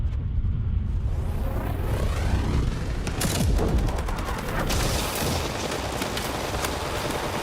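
AK rifle fire in a Fire Emblem video game cutscene, rendered as loud, rapid, sustained bursts of automatic gunfire and blasts over a dense rumbling backdrop, with no talk over it.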